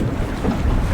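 Steady, loud wind buffets a fishing boat drifting at sea off Sørøya, Norway, roaring continuously across the whole moment with low rumbling gusts and water wash, no voices.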